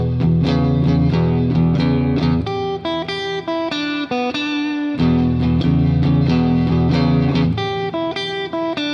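A distorted electric guitar plays a bluesy lick, bending and sliding notes with a thick, driven tone and chorus-like shimmer, loud and unaccompanied.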